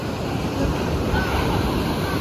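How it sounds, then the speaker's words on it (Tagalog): Large ocean waves roar steadily without a break at a triathlon swim start, a dense wash of breaking surf mixed with wind buffeting the microphone. "Yan, lalaki ng alon."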